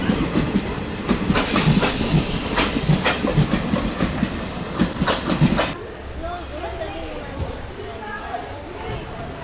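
A long Indian passenger train rolls along the rails with rhythmic clickety-clack and rumble, loud for about six seconds, then quieter with squealing wheels; people talk over it.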